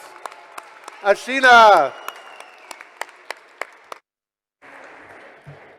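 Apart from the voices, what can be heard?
audience applause for panel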